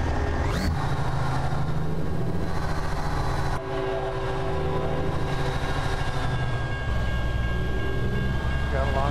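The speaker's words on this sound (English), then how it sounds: "Yeah, she's a long train." A long diesel freight train rolls past at a grade crossing in American Truck Simulator, a steady loud rumble of railcars with horn blasts sounding near the start and end, while someone talks briefly over it.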